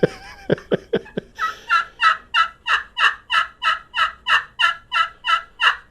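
Crystal-surface friction turkey call played by hand, producing a few quick, clucking notes followed by a long, evenly spaced run of about fifteen raspy hen yelps, close and clear with no talking.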